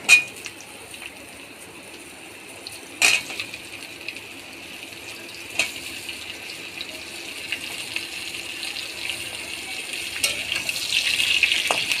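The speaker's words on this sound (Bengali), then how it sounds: "তেলের উপরে দেওয়া হচ্ছে" Puti fish frying in hot oil in a home kitchen, a steady soft sizzle running through the whole stretch with a few sharp clinks of utensils near the start and middle, growing slightly louder and busier toward the end.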